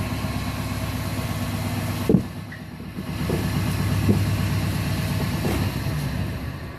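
A 1959 Hardinge DV-59 tool room lathe runs in high gear in reverse with a steady, close mechanical hum and drone. A few faint knocks sound partway through.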